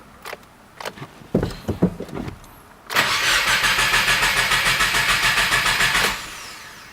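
Speech first, then a 2017 Subaru WRX engine cranks on its starter without firing during an oil change, a rapid, even chugging lasting about three seconds before stopping abruptly.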